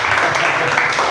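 Congregation applause during a church service, a dense, steady wash of clapping hands filling the space for the whole short moment, loud and continuous.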